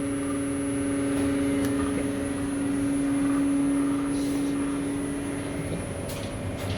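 Switched reluctance motor drive running lightly loaded at 1400 rpm in open-loop operation, giving a steady whine with a strong sustained hum and constant mechanical noise throughout, with no talk.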